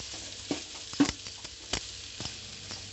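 Rice stirred together with a spiced eggplant mixture in a pan, heard as several soft scraping and tapping strokes of a spoon against the pan over a faint sizzle, close and fairly quiet, with no talking.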